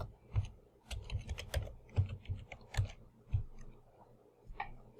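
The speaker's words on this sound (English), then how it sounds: "I have to type the password" A password being typed on a computer keyboard: close, irregular clicky keystrokes in quick bursts, about a dozen presses with short pauses, no talking.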